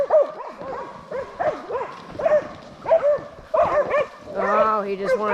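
Dogs bark and yip repeatedly on a farm during an escaped Kunekune boar pig commotion, sharp close barks coming in quick bursts with whimpering tones mixed in.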